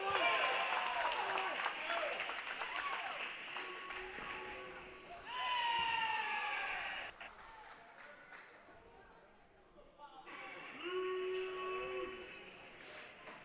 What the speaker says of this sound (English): It's a crowd, as you can hear in the background, erupting as court 6 has now been all knotted up